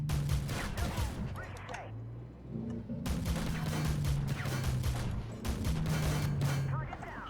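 A BMPT Terminator tank in Armored Warfare fires its guns in rapid bursts, loud crackling volleys that pause briefly and then resume, with a low engine drone running steadily underneath.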